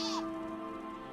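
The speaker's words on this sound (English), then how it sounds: "somebody just got on a sheep and it was so loud it peaked out the game audio for me" A sheep mount in Final Fantasy XIV lets out a single short, loud bleat at the start, fading into a sustained tonal hum of game ambience.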